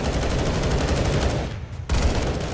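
Loud, continuous video game gunfire, a dense rattling stream of shots that cuts out briefly and then resumes.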